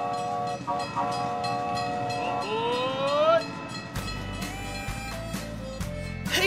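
A train sounds its horn in long sustained tones that bend upward in pitch, followed by heavy rolling rail rumble and clatter as the cars pass close by, with no talking.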